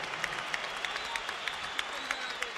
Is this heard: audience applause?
yes